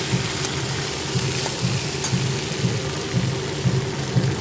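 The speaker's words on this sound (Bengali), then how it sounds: "জল দিয়ে দিলাম" Water poured into a cooking pot while preparing mung dal with cucumber, a continuous splashing pour with a soft rushing hiss, steady and fairly close.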